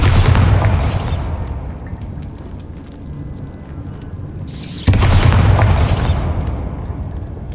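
Two Bombarda spell explosions in Hogwarts Legacy, each a loud sudden blast with a bright crackling burst that decays into a long rumbling tail, the second landing midway through.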